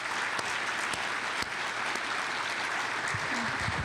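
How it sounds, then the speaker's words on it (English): Steady audience applause at a regional transportation summit, a large roomful of hands clapping evenly at moderate distance, with a brief voice near the end. "Give him a round of applause."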